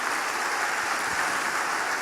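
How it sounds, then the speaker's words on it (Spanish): Church congregation applauding together, a steady dense wash of many hands clapping at moderate loudness, with no one speaking over it. "Denle un aplauso a ese Dios hermoso."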